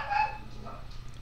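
A dog barks a few times as it is walked past outdoors, the sharp barks strongest near the start and then fading into a low steady background hum.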